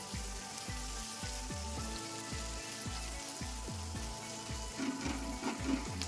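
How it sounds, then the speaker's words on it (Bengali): Chopped garlic and onion frying in oil in a pan give a steady, faint sizzle and crackle throughout, with a repeating low rhythmic thump running underneath. "রসুন কুচি আর পেঁয়াজ কুচি তেলের সাথে খুব ভালো করে মিশিয়ে নিয়ে হালকা করে ভেজে নেব"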